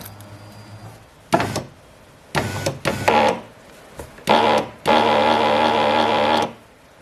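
Noisy driver's side power window motor on a Mazda 3, whirring in several bursts of varying length with grinding, rattling tones, the last run longest and loudest, with quiet gaps between.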